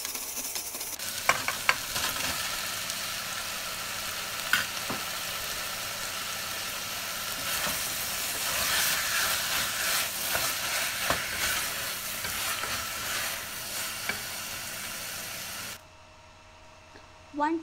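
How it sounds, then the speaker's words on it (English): Onions, curry leaves, green chilies, crushed garlic, ginger and tomato sautéing in a pan for a black-eyed peas curry, a continuous close sizzle with stirring clinks and scrapes, ending abruptly near the close. "add finely chopped onions and curry leaves to it and saute until the onions are translucent"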